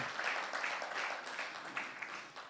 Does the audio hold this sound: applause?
yes